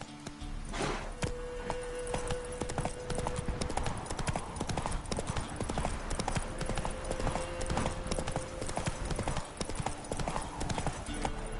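Roach, a horse in The Witcher 3: Wild Hunt, galloping with rapid, rhythmic clip-clop hoofbeats that run steadily and close throughout, layered over game ambience and music.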